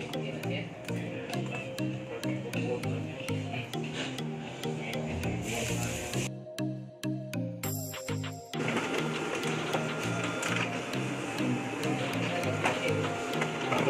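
An OKI MB472 printer prints duplex on both sides with a steady, rhythmic mechanical feed and clatter that drops out briefly midway and then resumes.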